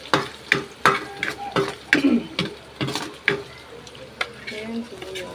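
Garlic sautés in a pan for a carbonara, with rhythmic, fairly loud scrapes and taps of a spatula over a soft background sizzle.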